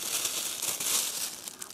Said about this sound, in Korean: 플라스틱 백.